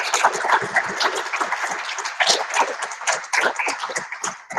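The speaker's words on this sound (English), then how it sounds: "And everyone give him a big round of applause." Sustained audience applause after a film talk, a dense wash of many hands clapping at steady loudness through the whole stretch, without any voices over it.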